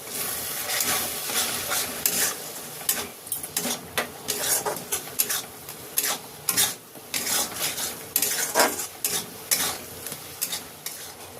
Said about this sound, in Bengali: এই সব মশলাগুলো ভালো করে কষে নেব যাতে মশলার গন্ধ না থাকে